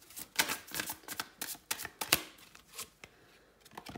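Oracle cards being shuffled by hand, a run of crisp riffling flutters and soft slaps close by with brief pauses, no one talking.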